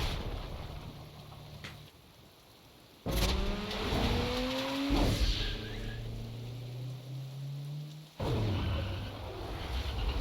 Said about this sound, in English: the car is zipping around that corner will never not be weird to me